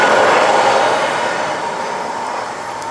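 A train rolling past beneath a drawbridge, heard as a loud, close, steady rumbling roar that slowly fades slightly over a few seconds.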